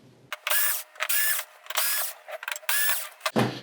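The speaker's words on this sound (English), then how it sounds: "Now we're going to hit these screws and the board should be free." A power driver backs screws out of a Samsung LH65DME signage display board in five or six short, loud whirring bursts separated by brief pauses, close up and without talk.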